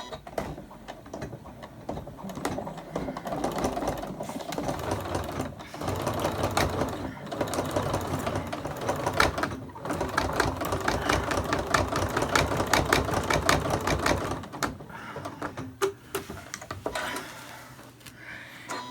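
A sewing machine runs a slow bean stitch on a laptop bag, its needle chattering in rapid repeated bursts with brief pauses between runs, fairly quiet and close, with no talking.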